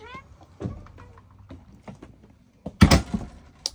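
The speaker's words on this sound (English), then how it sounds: "let me close this door" A motorhome door swings shut with a loud thud and rattle near the end, following scattered faint knocks and brief talk earlier.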